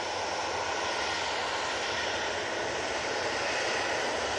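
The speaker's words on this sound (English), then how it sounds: "3737-800 off to Heraklion." Steady, loud roar of a Boeing 737-800 jet taking off at Manchester Airport, a continuous broadband engine rumble held at close range with no voices.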